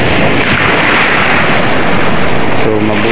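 Ocean waves crash and foam into fizzing bubbles, a loud, continuous roaring wash of surf that stays steady and close throughout.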